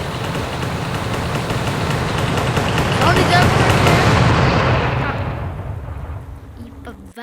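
Fireworks bursting in a firework-themed mobile game, a dense, loud run of booms and crackling pops layered for several seconds, thinning out and fading near the end.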